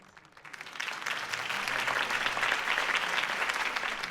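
Crowd applause after Harvey Dent's campaign speech in the Telltale Batman video game, swelling in from quiet to a loud, sustained roar of clapping that holds steady to the end.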